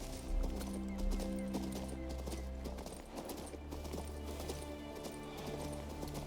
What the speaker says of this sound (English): But with the horse, this should be fast work.